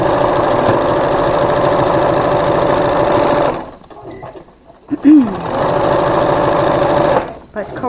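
A sewing machine stitches a seam joining half-square-triangle quilt blocks, running loud and close in two long continuous bursts with a short pause between them.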